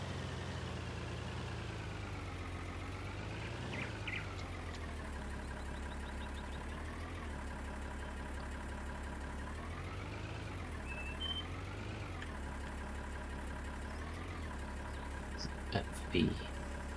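Tractor engine in Farming Simulator 19 video game, a steady low idling drone that rises and falls slightly in pitch as it pulls along a field, with faint beeps near the end.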